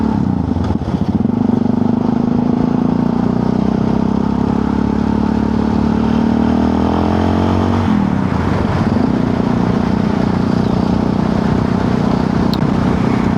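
Motorcycle ride near the Latvian border in very strong wind, with a steady engine drone and heavy wind buffeting across the whole stretch, a pitch shift partway through as the engine changes speed.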